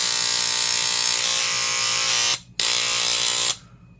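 Hamilton Beach Century Special electric scissors cutting fabric, a loud steady buzzing motor whine that briefly stops, restarts, then cuts off near the end.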